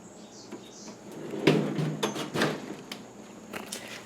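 A drawer holding assorted small ceiling fan parts slides open or shut in a room, with a few soft knocks and a louder rolling scrape and thud near the middle, fairly quiet overall.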